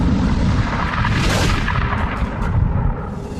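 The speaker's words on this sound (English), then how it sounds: "pulsars are formed in these incredible explosions." A dense, rumbling blast with a roaring swell of noise, loud and sustained throughout, like a booming explosion sound effect with no voices.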